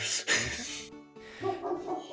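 A dog barks a few times close up, including a sharp yip, with brief whimpering sounds in between and no talk.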